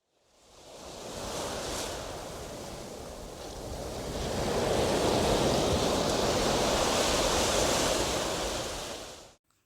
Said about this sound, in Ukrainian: Шум моря, прибою звучить спокійно, нам уявляються великі хвилі, що б'ються об берег.